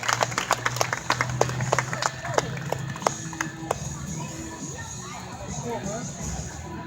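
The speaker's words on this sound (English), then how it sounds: "let's give these sea lions and trainers a big round of applause" Audience applause at a sea lion show, a spread of individual claps near and far that thins out over several seconds, with voices talking underneath.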